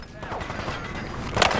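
Gunfire in the video game Fallout 4: a short, busy burst of rapid shots with a sharper, louder crack near the end, close and dense.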